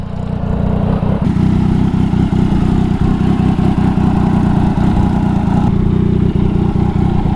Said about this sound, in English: I've never heard of this exhaust brand, but it sounds mint